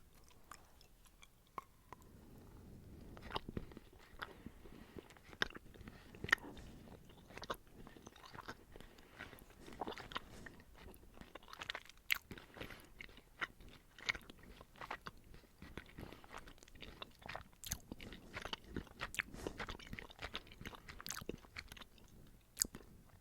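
Chewing and crunching on Danish gourmet black licorice candy with a light caramel flavour, close and soft, with repeated sticky bites and mouth clicks spread across the whole stretch and no talking.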